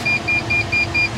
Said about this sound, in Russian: Сигнализация сработала.